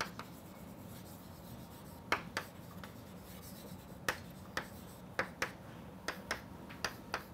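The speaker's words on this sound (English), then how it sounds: "let me write it down" Chalk or marker strokes on a board during a physics lecture on Markov processes, a run of short sharp taps and scratches at an irregular rhythm, close and fairly clear, with no talk.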